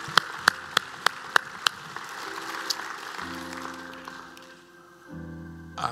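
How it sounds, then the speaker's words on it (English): Congregation clapping to welcome visitors at a church service: a handful of sharp, evenly spaced claps ring out, then sustained keyboard chords take over. "let's clap our hands and welcome them to the service today"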